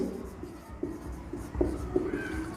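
Marker writing on a board during an English grammar lesson: a few short, squeaky strokes in an uneven rhythm, close and moderately quiet, with no talking.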